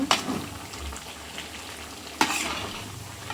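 Fish pickle frying in a pan sizzles steadily and close, with two sharp scraping stirs from a spoon at the start and again midway.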